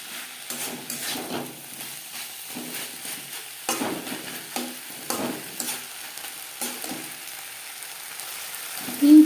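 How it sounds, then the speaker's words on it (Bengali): Spring onion stalks tossed and fried with spices and a pinch of red chilli powder for a fish jhal, a steady sizzle broken by repeated scraping stirs of a spatula in the pan, close and fairly loud, with no talking. "সাথে পেঁয়াজ কলি বেশ ভালো করে মিক্স করে দেব"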